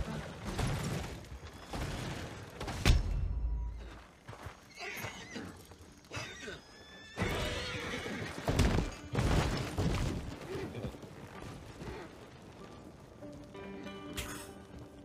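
A horse whinnies in Red Dead Redemption 2 as it catches fire, its neighs and squeals rising over busy game noise with crackles and bursts. A shrill neigh stands out near the start and another midway.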